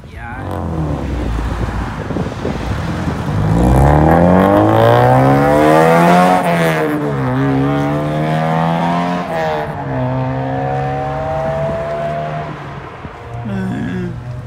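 A ProCharged V6 Mustang engine revs hard and accelerates close by, its loud whine climbing and falling in repeated sweeping surges, with voices talking nearby.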